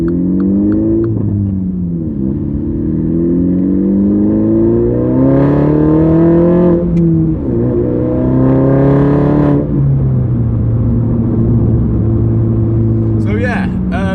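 A 2015 Mini Cooper S F56 engine in loud mode revs and climbs through gears with a throaty drone, rising and dropping in pitch with each shift, loud and close throughout.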